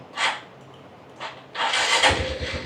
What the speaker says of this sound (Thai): เครื่องยนต์นะครับก็สามารถสตาร์ทติดได้นุ่มๆแบบนี้นะครับผม